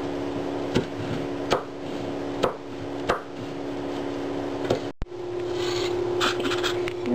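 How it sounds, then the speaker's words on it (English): A knife coarsely chopping chilies strikes a board in evenly spaced single knocks about once every second, over a steady background hum, with a brief clatter near the end. "In the meanwhile, you can chop your chilies,"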